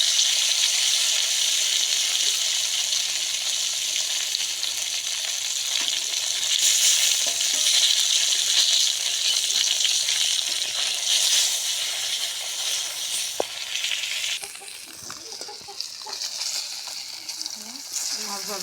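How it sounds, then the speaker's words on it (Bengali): Fish fries in hot oil in a wok, a loud continuous sizzle heard up close for most of the clip, easing and turning quieter toward the end. "তেলটা গরম হয়ে গেছে, মাছটা ভেজে নেব।"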